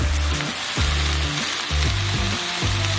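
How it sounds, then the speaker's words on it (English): Oats for a brunch bowl frying in a pan, a loud, close, continuous sizzle with a few scraping stirs and soft knocks, no talking. "We're going to cook this a little bit longer, get the oats firmed up a little bit more"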